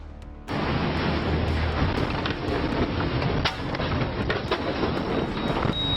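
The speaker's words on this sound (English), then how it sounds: "A colossal ice block collapsed right beside a small boat" A deep, sustained roaring rumble starts abruptly and continues loudly, with a few sharp cracks, as a colossal block of glacier ice collapses beside a small boat and churns the water.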